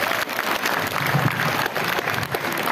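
Audience applause at a school seminar in a hall, a steady dense wash of clapping that runs the whole time with faint voices mixed in.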